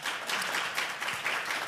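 An audience clapping at a real estate industry conference panel, a brief, continuous burst of many hands applauding, bright and full, with no talking.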